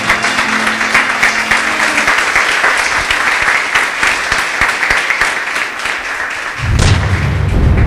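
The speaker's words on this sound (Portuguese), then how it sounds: "Louve a Ele com suas palmas bem forte." A church congregation clapping hard in unison, a dense loud burst of applause that runs steadily for several seconds, then shifts abruptly into a louder low boom-like rumble near the end.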